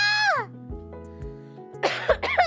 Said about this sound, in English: Oh, there's the first cough.